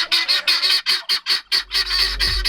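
Farm turkeys, including a large tom, squawk and gobble in a loud, close run of rapid repeated calls, nearly continuous, with no talking.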